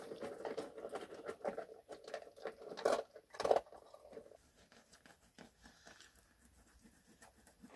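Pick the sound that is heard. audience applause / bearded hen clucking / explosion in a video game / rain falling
rain falling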